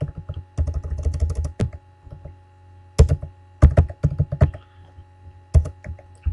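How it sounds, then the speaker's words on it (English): Close, crisp typing on a computer keyboard while entering city names into an Excel spreadsheet, in short bursts of rapid keystrokes separated by pauses, with a low hum running underneath and no talk. "We're going to type in Atlanta."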